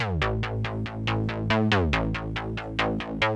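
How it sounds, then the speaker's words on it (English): Rhythmic 80s-style analog synth bass preset pulsing in a steady stream of short, bright, plucky notes, repeating a low pattern with occasional pitch changes, loud and alone. "we've got a rhythmic bass that sounds like this."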